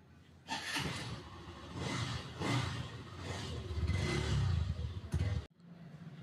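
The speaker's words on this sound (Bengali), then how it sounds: "তো এই বাইকের একটু সাউন্ড আপনাদেরকে শুনিয়ে একটু একটু শোনাই আপনাদেরকে।" A Hero Xtreme 125R, a 125cc motorcycle, revs repeatedly in bursts of engine noise close to the microphone, rising and falling for about five seconds before it cuts off abruptly.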